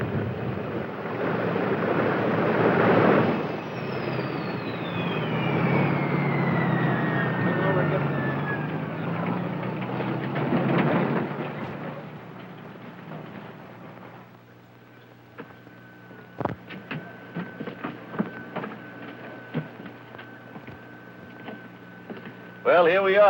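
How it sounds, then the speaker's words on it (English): A 1953 Eastern Air Lines Lockheed L-1049 Constellation roaring loudly on the ground as its propellers are reversed after landing, with a sliding whine, then easing to a quieter cabin hum broken by clicks and knocks. "you hear the engines roar soon after you're on the ground, remember that's what he's doing, reversing the props to stop the airplane"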